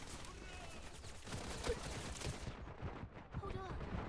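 Continuous gunfire in the shooter game Wild Assault, a steady mass of distant rattling shots beneath game chatter and ambience, thinning briefly toward the end.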